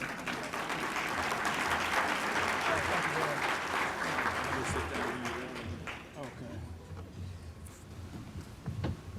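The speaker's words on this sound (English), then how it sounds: "Here's applause for him" A luncheon crowd at a drug court anniversary event claps for the keynote speaker as he comes up; the applause is full at first, then fades, and a voice speaks over the closing moments.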